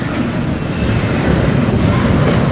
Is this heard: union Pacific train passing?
yes